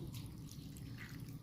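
Water pouring in a soft, continuous stream, quiet and close, with no voices.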